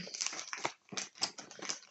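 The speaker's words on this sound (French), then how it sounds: "il jappe pour un oui ou un non là" A small dog yaps in a quick run of short, high barks, five or so bursts separated by brief pauses, faint and somewhat distant in an indoor room.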